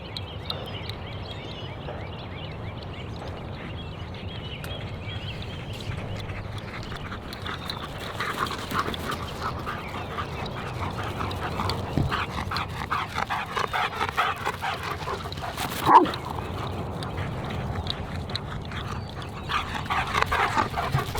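Dog whimpering and yelping in playful excitement outdoors, a steady run of close, scrappy vocal noises with a louder bark-like burst near the end.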